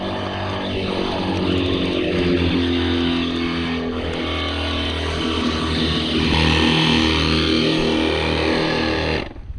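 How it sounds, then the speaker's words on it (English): An electric air pump inflates a folding fishing boat, making a loud, continuous droning motor buzz close by that holds steady for the whole stretch and then cuts off abruptly, with no talk. "you need to replace the seal on the pump"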